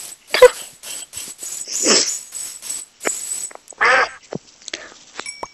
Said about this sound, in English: you're obviously a duck, not a chicken